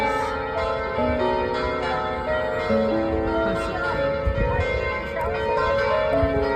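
Church bells ring loudly and continuously, their tones overlapping in a rich, sustained peal close by.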